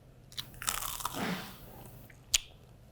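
A crisp crunchy bite into buttered crusty bread made in an Instant Pot, followed by a few soft chewing crunches and a sharp crackle near the end, close up with no talking.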